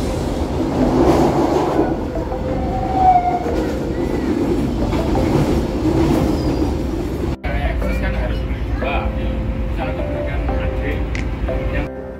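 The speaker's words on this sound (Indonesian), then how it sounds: "Perjalanan dari Waru ke Surabaya Gubeng tidak terlalu jauh, ditempuh dalam waktu sekitar 20 menit saja." A train travels between Waru and Surabaya Gubeng, its steady loud rumble and rattling wheels filling the cabin, heard from inside with a brief dropout midway and people talking throughout.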